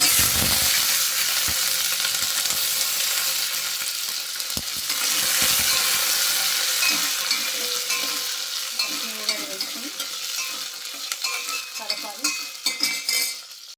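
Green chillies sizzle and crackle loudly in hot oil alongside fenugreek seeds and cumin, a steady dense frying hiss with stirring clinks growing more broken and spattery toward the end.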